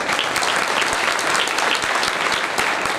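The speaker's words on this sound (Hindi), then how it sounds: "ताली बजाना तो जोरदार बजाओ सब लोग।" Crowd applause at a Jain religious gathering for a Kalash sthapna ceremony, loud continuous clapping from many hands filling three seconds without a break.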